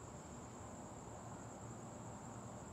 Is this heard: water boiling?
no